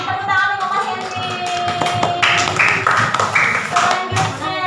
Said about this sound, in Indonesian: Tepuk tangan untuk Mas Henry.